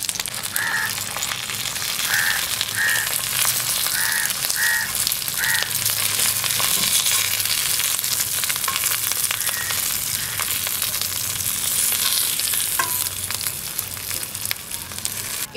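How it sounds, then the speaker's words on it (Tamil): Kerala-style fish pollichathu wrapped in banana leaf frying on a tawa, a loud continuous close sizzle with faint bird calls in the background early on. "ஒரு 5 மினிட்ஸ்க்கு நம்ம இதை தவாலையே ஃப்ரை பண்ணிக்கலாம்."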